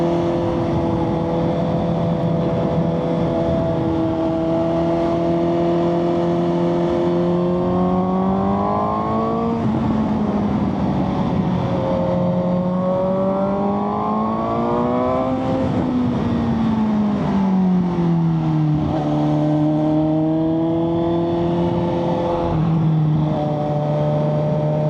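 Big motorcycle engine accelerating during a ride in traffic in Phuket, Thailand, a loud, continuous close drone whose pitch climbs and drops through several gear changes with no talk.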